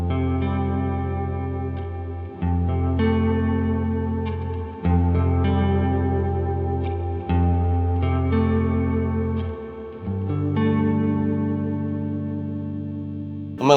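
An electric guitar through a Keeley Caverns V2 reverb and delay pedal plays a slow series of chords, each swelling into a lush, washed-out ambient tail that blurs into the next, instrument alone.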